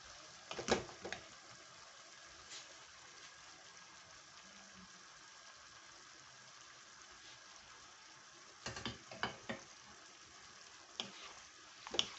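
Beef frying in a pan, a quiet steady sizzle with occasional clinks and stirring scrapes near the start and end.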